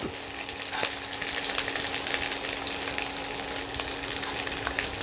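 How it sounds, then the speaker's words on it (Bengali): Cauliflower and beans fry in a pan with a dense, continuous sizzle and crackle at a fairly close distance, steady throughout with no voices. "ফুলকপিটা হালকা ভাজা হয়েছে, এবার আমি দিয়ে দেব ছোট করে কাটা"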